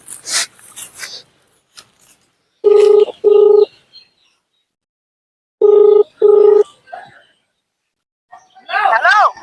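Two pairs of electronic telephone keypad beeps, loud and evenly spaced, with people talking before and after.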